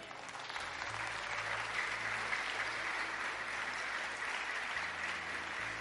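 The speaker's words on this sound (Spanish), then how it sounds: "Si va a aplaudir, aplauda en serio para nuestro Dios" A church congregation claps steadily through a Sunday service, a dense sustained wash of applause with a faint low hum underneath and no voices standing out.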